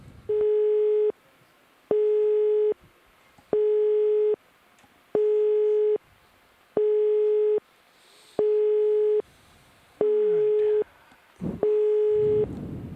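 A repeating telephone busy tone of eight evenly spaced beeps, each about a second long, plays on a dropped phone line during a deep-sea ROV dive broadcast, with faint background noise and a brief voice fragment near the end.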